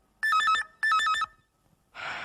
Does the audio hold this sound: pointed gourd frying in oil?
no